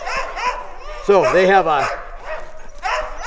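Sled dog, a fast mixed-breed racing dog of the kind run in the Anchorage-to-Nome race, gives a short close yelping bark run in the middle, with someone talking before and after.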